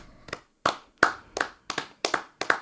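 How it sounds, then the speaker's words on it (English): A few people at a podcast taping give a sparse, small round of applause, about seven separate claps spaced unevenly, close and dry with no voices. "Smallest applause ever"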